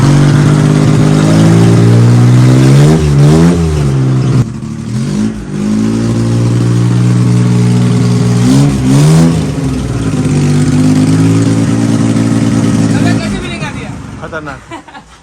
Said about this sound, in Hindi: अभी डालेंगे पेट्रोल एंड बाइक को स्टार्ट करेंगे।